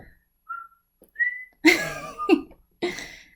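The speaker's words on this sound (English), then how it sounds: "I can't whistle." A person tries to whistle, giving a few thin, breathy whistle tones, then a couple of short throat-clearing or cough-like bursts, alone with no talk.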